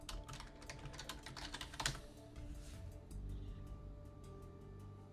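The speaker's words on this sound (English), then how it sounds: "Let me type in" Someone types on a computer keyboard in a rapid burst of close, crisp keystrokes, followed by a few scattered taps over a faint background hum.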